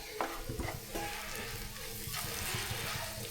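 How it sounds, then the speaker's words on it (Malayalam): Spice powders and garam masala fry in a pan with a soft, steady sizzle and a few faint clicks of stirring, quiet and close, without speech. "പൊടികളൊക്കെ ഒന്നോടെ മൂത്ത് വരട്ട്"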